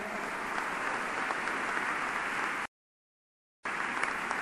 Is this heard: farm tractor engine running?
no